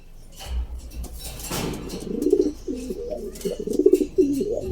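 A pair of pigeons being paired up in a shared pen coo back and forth, producing soft, throaty, repeated coos that build and overlap over the second half, close by, with faint rustling and no talking.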